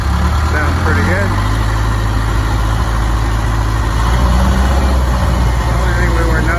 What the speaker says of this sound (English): He's going to start it up, let us see how it operates.